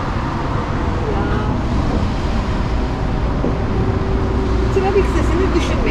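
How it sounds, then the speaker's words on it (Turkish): Steady roar of road traffic in Tirebolu on Turkey's Black Sea coast fills the scene, a continuous low rumble of passing vehicles with no pauses. "Trafik sesini düşünmeyin."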